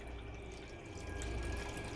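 Chicken broth poured from a can into a pot of water for cooking noodles, a continuous close liquid splashing and gurgling without pause.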